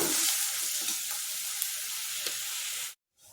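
Ground onion paste frying in oil in a pan for a horse gram (hurali) curry, a steady loud close sizzle with faint stirring scrapes, cutting off abruptly near the end.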